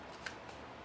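A deck of tarot cards is shuffled briefly and quietly, with a soft riffling rustle and one small snap of cards near the start.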